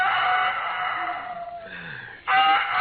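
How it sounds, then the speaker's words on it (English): A farm rooster crowing, several drawn-out calls at moderate volume, with a louder final burst at the end. "I could have slept if it hadn't been for that darn rooster"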